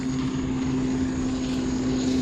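A Q-Jet boat motors past on the water, a steady droning engine hum with a constant tone, fairly close and even throughout, with no talking.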